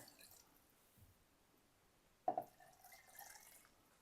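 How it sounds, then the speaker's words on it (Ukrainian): Mushroom-soaking broth is poured over cabbage rolls set to bake in an oven: a brief splash followed by faint, quiet trickling and dripping, with no voices. "і заливаємо оцим бульйоном, в якому ми мочили гриби."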